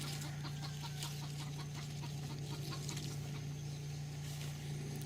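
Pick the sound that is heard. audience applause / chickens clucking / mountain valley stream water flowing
chickens clucking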